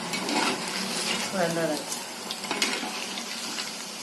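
Sago (javvarisi) bondas frying in hot oil, a steady broadband hiss and bubbling crackle running throughout, with faint voice-like sounds underneath.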